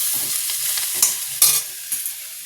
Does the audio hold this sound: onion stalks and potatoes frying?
yes